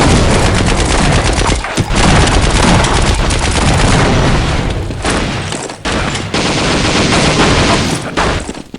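Dense, loud gunfire from the video game Team Fortress Classic, rapid repeated shots and booms packed together almost without pause, with only a few short gaps.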